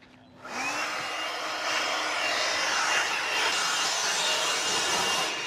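Leaf blower whooshing steadily at a campsite, blowing away bugs; a continuous broadband roar that starts abruptly and holds loud and close throughout.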